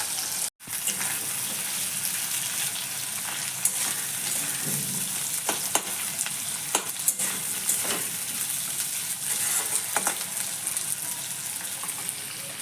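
Eggplant and cabbage fry in fish oil in a pan, giving a steady, close sizzle with scattered sharp crackles and pops throughout, with no voices.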